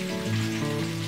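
Chicken frying in a pan gives a steady, close sizzle and crackle that holds evenly through the short moment, with no talking.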